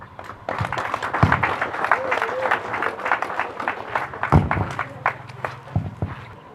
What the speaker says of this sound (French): Merci d'applaudir une fois de plus